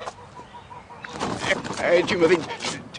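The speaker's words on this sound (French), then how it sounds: "Qu'est-ce que tu fais avec cette oie, Jim?" Goose honks and clucks come in sharp bursts after a quiet start, close by and mixed with people talking.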